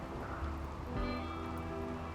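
Rain pattering steadily in the RimWorld video game, a constant soft hiss of falling drops, with a low tone entering partway through and holding under it.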